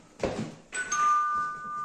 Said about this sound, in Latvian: Mums ir zvans arī.